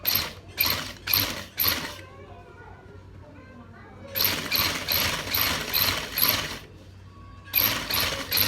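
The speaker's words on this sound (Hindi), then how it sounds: "अभी चलते हैं मशीन की तरफ और सिलाई करेंगे" Sewing machine stitching a gents kameez, running in several bursts of rapid mechanical clatter separated by short pauses, close and fairly loud, with faint background sounds between runs.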